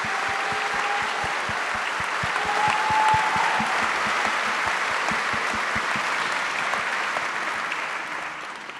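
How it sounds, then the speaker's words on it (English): Sustained audience applause at a panel event, steady many-handed clapping throughout, close and even, with a few individual claps standing out before it gradually fades near the end. "So I would like to give a big round of applause to you."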